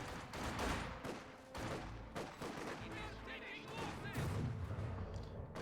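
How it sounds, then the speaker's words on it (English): A heavy M38 120mm mortar barrage in Company of Heroes 2 rumbles through dense, overlapping explosions and gunfire. A commentator's voice partly runs under the battle noise. "The M38 120mm mortar. And of course now Clororaa knows there's a heavy mortar about."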